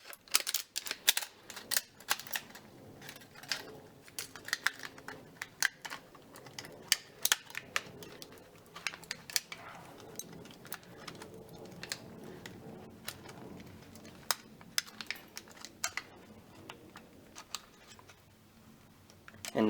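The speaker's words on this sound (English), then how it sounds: "tin snips aren't really meant for kind of precision work like this, but yeah, I'll make it work" Tin snips cut along the edge of a 3D printed plastic part, a series of sharp, irregular clicks and snaps, close and fairly quiet, with short pauses between cuts and no talking.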